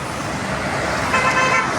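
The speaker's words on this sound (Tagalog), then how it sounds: "rumaragasa yung ating mga motor dahil wala nga mga malalaking sasakyan sa araw na ito" Motorcycles speed along a road empty of big vehicles, a steady dense traffic roar close by with a brief tonal horn-like toot near the end.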